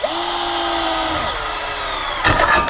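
A 12V cordless drill driver (DCK KDJZ1202) with a 4 or 5 mm bit whines loud and close as it drills, its motor pitch sagging under load before a rough burst as the bit breaks through.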